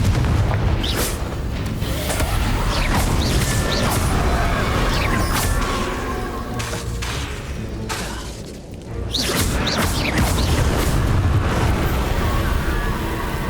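A Confringo blasting spell in Hogwarts Legacy on Nintendo Switch, loud explosive booms and shattering crashes with whooshing bursts, dipping briefly to a lull before the blasts resume at full force.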